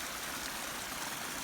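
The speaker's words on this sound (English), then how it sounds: "the water is coming down the hill" Creek water rushing steadily down a hillside toward a culvert by a county road, a continuous broadband flowing roar, close and unbroken with no voices.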